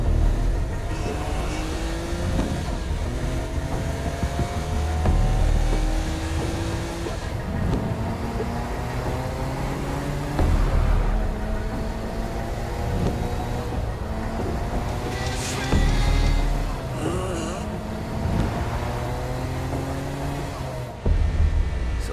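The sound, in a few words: car driving in the video game Saints Row: Gat Out of Hell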